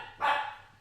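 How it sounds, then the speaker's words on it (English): A single short dog bark heard at a distance, faint and brief against a quiet room background. "Sorry about the dogs."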